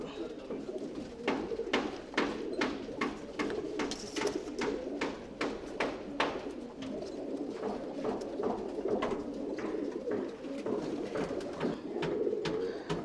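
Tumbler pigeons coo in a loft, with soft repeated calls and rhythmic wing or foot taps scattered throughout, faint and close, over a low murmuring background.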